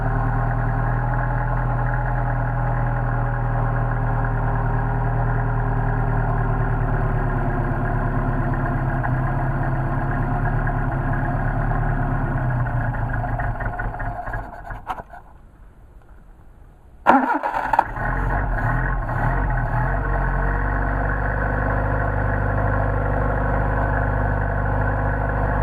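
A Mercedes 190SL with Solex carburetors runs on choke on a freezing day, a steady low idle that dips and briefly stalls before restarting and settling back into an even idle.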